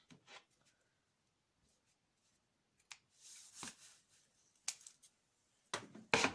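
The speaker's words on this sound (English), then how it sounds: "And trim the threads." Scissors snip loose threads on a homemade reusable fabric snack bag, a few short separate cuts spaced over a mostly quiet stretch, close and crisp.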